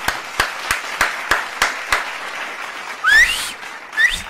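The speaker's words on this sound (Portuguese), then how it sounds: "Uma salva de palmas pro Bruno Barreto" A few slow, evenly spaced single claps welcoming Bruno Barreto, sharp and close, followed by a couple of rising whistles near the end, no talk.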